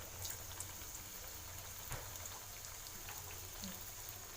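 Avalakki kachori frying in hot oil, a faint, steady sizzle and crackle with scattered small pops, soft and continuous with no talking.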